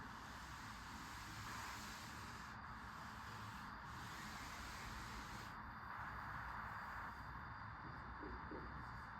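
A board eraser rubs steadily across a classroom board, a continuous rough scraping that stays close and even for several seconds with no talk over it.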